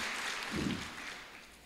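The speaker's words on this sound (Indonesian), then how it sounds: "Oke, tepuk tangan buat kita semua" A student audience at a welcome event for new students at Universitas Ma'arif Hasyim Latif Sidoarjo applauds, producing a dense, steady wash of clapping at moderate distance that gradually fades.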